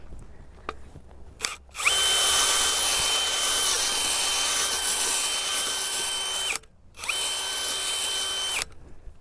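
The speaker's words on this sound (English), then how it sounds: "So I'm going to use the 3-inch auger here. We'll dig a hole." A drill spinning a 3-inch garden auger into soil to dig a planting hole, a loud steady whine running for several seconds, cutting out briefly, then resuming for a second burst, with no talking.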